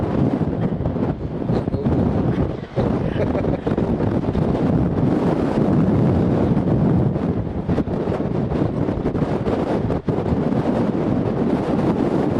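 Strong wind buffets a microphone outdoors on a cold day, producing a loud, continuous rumbling roar with gusty fluctuations that lasts the whole stretch, with no speech.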